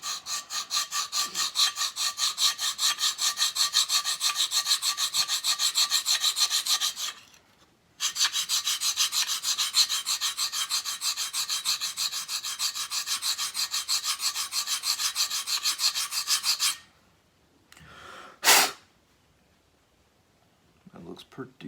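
A Microtech Socom Elite knife has its bevel set on a sharpening stone, giving a steady, rhythmic rasping scrape of rapid strokes that pauses briefly, resumes, then ends in a couple of isolated scrapes and quiet.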